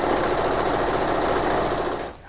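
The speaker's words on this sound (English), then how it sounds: "I'm also going to back stitch at my start." A sewing machine back stitches at the start of a seam on fabric for a homemade ironing board cover, running as a steady, continuous mechanical whir for about two seconds before stopping abruptly.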